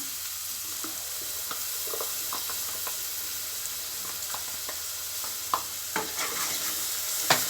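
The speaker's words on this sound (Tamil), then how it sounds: "இது எண்ணெயில் வதங்குச்சுன்னா மசாலா ரொம்ப நல்லா வாசனை சூப்பராக இருக்கும்" Ground masala fries in oil with tomatoes for a bottle gourd gravy, giving a soft, steady sizzle broken by repeated scraping clicks of a spoon stirring the pan, close and without talk.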